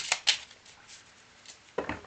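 Tarot cards shuffled by hand, with soft papery riffles and slides, two quick bursts at the start, quieter rustling in the middle and a louder flurry at the end, close by with no talk.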